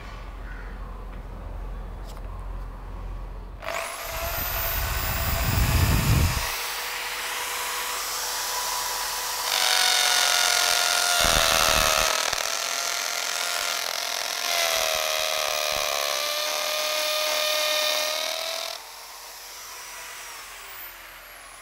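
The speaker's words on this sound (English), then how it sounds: "it's in the hammering mode. That's the impact mode, and then I trigger this on." A corded Bosch GSB 600 RE drill switched on in hammer mode, a loud close whine with a rattling grind that starts after a few seconds of quiet, shifts pitch as it runs, then cuts off near the end.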